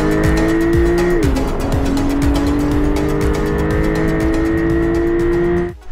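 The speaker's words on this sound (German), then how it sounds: "Das war jetzt mal gerade Vollgas" A Porsche 992 911 Turbo Cabriolet runs at full throttle, its engine loud and close with a rising roar, a brief dip at a gear change, then climbing again before cutting off abruptly.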